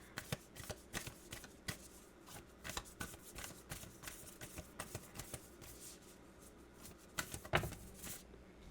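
Tarot cards being shuffled, a soft run of quick papery flicks and riffles that goes on steadily throughout, close and fairly quiet, with no talking.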